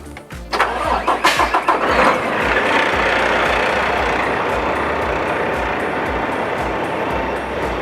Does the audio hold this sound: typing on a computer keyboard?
no